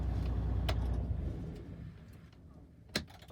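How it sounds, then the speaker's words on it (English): Truck engine being switched off during a CDL air brake test, its low running rumble fading out over about two seconds, followed by a near-silent cab with a sharp click. "Now I'm going to turn off the engine."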